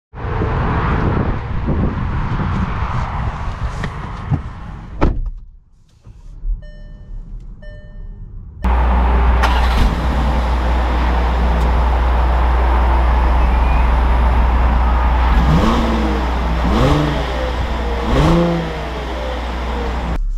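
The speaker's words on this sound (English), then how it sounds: "let's take this Crossport out and see how it drives" A 2021 Volkswagen Atlas Cross Sport SEL Premium SUV drives, its steady engine and road hum loud and close, with tire and wind noise building after a brief quiet stretch and a few rising engine swells near the end.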